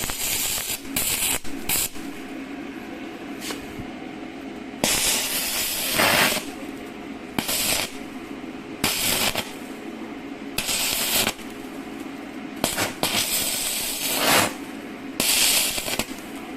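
Arc welding with a 12-gauge rod on a Reline DC inverter MMA 250 welder: loud crackling, sputtering bursts of arc hiss in repeated strikes of a second or so, separated by quieter gaps, close to the microphone.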